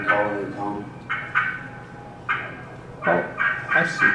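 Calls of a wild Osceola turkey hen, a series of short yelping bursts in irregular clusters with pauses between, fairly close and clear over quiet outdoor background.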